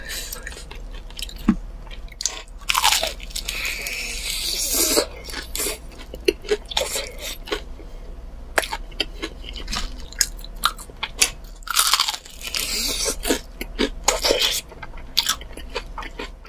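Crispy fried chicken with a chili mayo coating is bitten and chewed up close in a series of loud, crackling crunches. The crunches are followed by wet, squishy chewing, with short pauses between bites and almost no talking.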